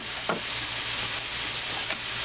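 Spicy hot sausage starts to sizzle as it begins cooking, a close, steady frying hiss broken by two brief stirring scrapes.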